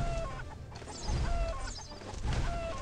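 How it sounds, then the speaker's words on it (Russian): Chickens cluck repeatedly in the What The Hen video game, a steady run of short, fairly close clucks with no talk over them. "Причем, смотри, какая интересная курица."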